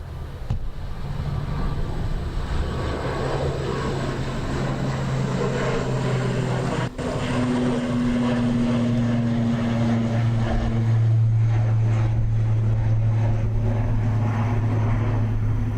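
A Dubai Air Wing Boeing 747 takes off from Dublin Airport, a loud, steady jet roar with rising whine tones that holds throughout at close range.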